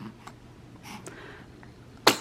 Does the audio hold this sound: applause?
no